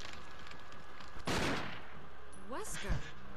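A single loud gunshot bursts out in a Resident Evil game, followed by a short rattle and another sharp report near the end, while someone talks quietly over it.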